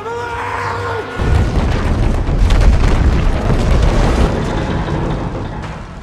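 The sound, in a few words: bombs exploding on a bridge in an action film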